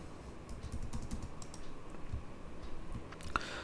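Steady typing on a computer keyboard while PySpark code is written in Databricks, a continuous run of soft, close key clicks with a couple of sharper taps near the end.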